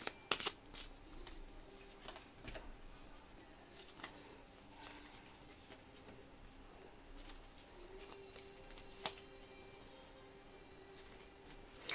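Tarot cards being shuffled and laid out on a table, with soft scattered card flicks and slaps, a few sharper snaps, and quiet handling noise throughout, no talking.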